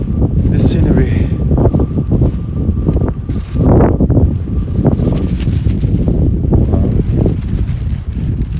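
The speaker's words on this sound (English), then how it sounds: "I'm at the cliff and it's very windy" Strong gusts buffet the microphone in heavy, rumbling bursts on a cliff at Berry Head Fort, Brixham, Devon, UK, while someone talks over the roaring wind.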